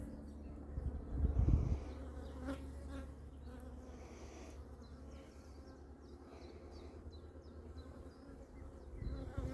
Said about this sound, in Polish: to jest pole gorczycy. Rolnik jeszcze nie zaorał, pszczoły na tym chodzą.